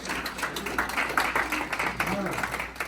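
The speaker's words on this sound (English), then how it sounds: "Give her a big round of applause" Audience at a county law school session giving a round of applause, a busy spread of clapping hands with scattered voices and cheers mixed in, fairly close and steady throughout.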